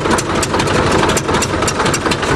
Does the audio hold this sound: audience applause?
no